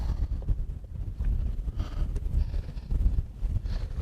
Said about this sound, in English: Right now the wind's blowing directly onto it, which is beautiful